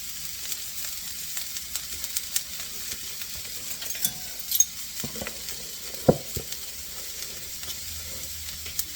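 Onion frying alone in a pan with a pinch of baking soda, sizzling steadily while a utensil stirs and scrapes it, with a few clinks against the pan.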